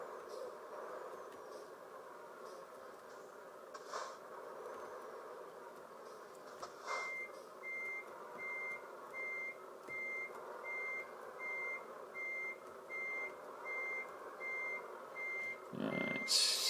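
Reversing beeps from a Volvo FH16 truck in Euro Truck Simulator 2 repeat in a steady, evenly spaced series over a low engine rumble, starting partway through and running to the end.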